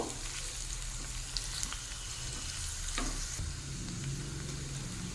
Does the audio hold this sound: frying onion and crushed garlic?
yes